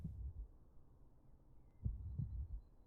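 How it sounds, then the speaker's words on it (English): Two muffled, low double-thump heartbeats sound at the start and again near the end, with quiet dark ambience in between. "Heartbeats?"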